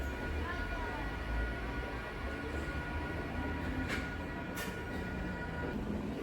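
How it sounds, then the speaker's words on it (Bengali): A local electric train departs, rumbling steadily close by, wheels rolling on the rails, with a couple of brief sharp squeals or clicks partway through. "নটা সাঁত্রিশে ট্রেন ছাড়ল"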